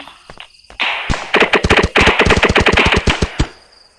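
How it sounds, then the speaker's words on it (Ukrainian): Gunfire in the video game Dude Theft Wars: a loud, rapid rattle of automatic shots in quick bursts, with a few single cracks before and a short pause midway. "прикольно, как стреляешь, и такие звуки прикольные"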